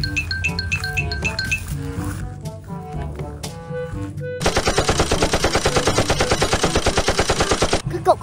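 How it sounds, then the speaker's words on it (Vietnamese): Upbeat music plays, then a loud burst of rapid automatic gunfire rattles nonstop for several seconds, close and harsh. "tiếng nổ súng rất là gần luôn"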